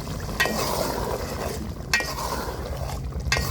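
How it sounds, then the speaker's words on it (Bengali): Meat curry with new potatoes being stirred and fried in a pot over a clay stove, a steady sizzle with scraping stirs and occasional clinks of a utensil against the pot, up close. "দেখুন মাংসটা কষাচ্ছি"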